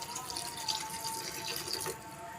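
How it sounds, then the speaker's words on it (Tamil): Water trickles and splashes steadily into a pan of okra tamarind curry, a continuous close-up liquid sound with no voices. "காய் வேகிற அளவுக்கு நம்ம தண்ணி ஊற்றிக்கலாம்."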